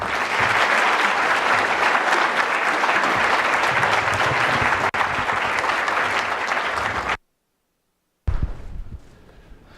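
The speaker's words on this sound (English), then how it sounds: "would you, with your applause, please welcome the Secretary of State, Rex Tillerson" A large audience applauds as Secretary of State Rex Tillerson is welcomed, loud continuous clapping that cuts off abruptly into a moment of silence, then a brief fainter burst returns.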